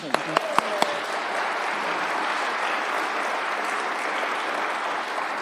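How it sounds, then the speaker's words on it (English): Steady applause from a heritage awards audience in Cornwall greets the shortlisted organisations, a continuous crowd patter opening with a few sharp close claps, with faint speech underneath. "We should give them a clap."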